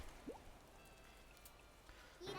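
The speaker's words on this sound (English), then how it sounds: "It's raining out, so take it easy." Soft, steady rain falls in Animal Crossing New Horizons, a faint even hiss of drops that carries on quietly throughout with no talk over it.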